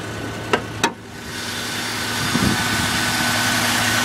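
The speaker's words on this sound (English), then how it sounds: "The engine has been started." A 2007 Cadillac DeVille DTS with a Northstar V8 and 81,000 miles idles steadily right after starting, a low even drone with two short clicks at the start.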